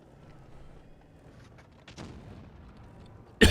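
A tank gun fires a shell in a video game: a single sharp, loud blast bursts out at the very end after a quiet low rumble.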